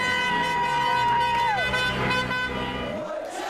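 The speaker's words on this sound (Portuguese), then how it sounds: "Um buzinaço de mais de 20 minutos deu início às comemorações" Car horns honk in street celebrations in Berlin after a football match win, a dense steady din of overlapping toots running throughout with crowd noise and voices mixed in.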